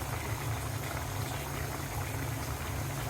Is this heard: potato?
yes